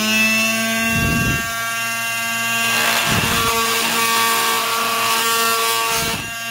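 A power tool cuts through thick plastic, about 3/16 inch, on the top of a NightStar CS hermetically sealed magnetic induction flashlight. It makes a loud, sustained high whine with steady tonal harmonics, dipping briefly at regular intervals.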